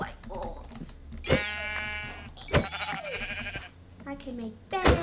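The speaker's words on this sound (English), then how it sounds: "Those are sheep." Sheep bleat in the Minecraft video game, several wavering cries in a row, fairly close and clear, with light keyboard tapping beneath.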